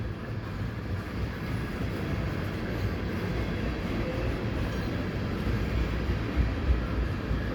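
A steady, continuous rumble and rolling clatter of a three-engine CPKC westbound intermodal freight train passing at night at Dorval, with no let-up across the whole stretch.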